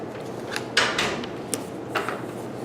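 Pencil scratching and rubbing on paper as a handwritten letter D is erased, a few short scrapes and brushy strokes close by with no talking.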